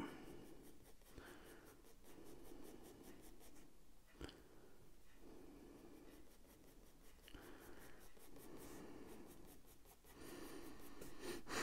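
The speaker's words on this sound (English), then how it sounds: "I'm getting more graphite off of my pencil" Graphite pencil strokes are layered onto paper for shading, with soft, close, rapid scratching that repeats in long bursts and a few brief pauses.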